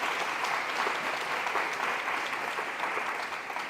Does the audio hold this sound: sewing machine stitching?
no